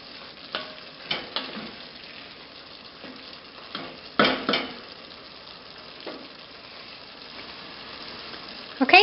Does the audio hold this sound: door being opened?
no